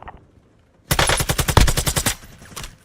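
A sudden burst of rapid automatic gunfire in a Gotham Knights stream, a dozen or so loud, evenly spaced shots in about a second and a half, trailing off into echo after a quiet lead-in.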